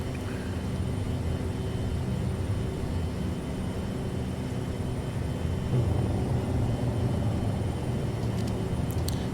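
A Boeing 737-200 climbs away after takeoff in the Prepar3D flight simulator, its jet engines a steady, loud roar of broadband noise with constant low rumble throughout and no talking.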